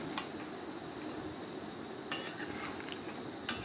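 Bhetki fish kata kosha lightly stirred in a pan: quiet scraping strokes over a low sizzle, with two brief metallic clinks of the utensil against the pan.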